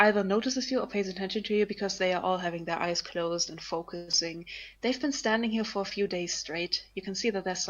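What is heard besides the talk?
None of the usual background noises is heard.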